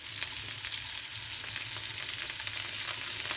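A frying pan of poha with tomato just added gives off a steady, moderately loud sizzle with light crackles and a low bubbling murmur underneath, and no voices.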